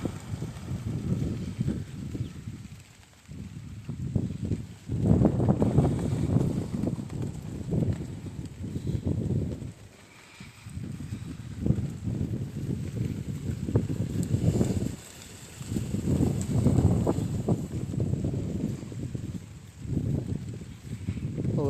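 Strong wind gusting through a banana grove by a pond, heavy buffeting rumble on the microphone that comes in long surges with brief lulls between them.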